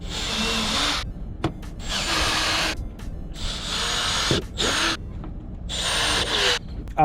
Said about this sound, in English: Now we're gonna drive the bigger drill bit to make the actual hole.